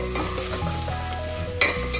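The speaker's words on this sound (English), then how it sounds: "Fry the onions till they turn into golden brown." Onions frying in a pan, a loud close crackling sizzle with stirring scrapes throughout, no voices.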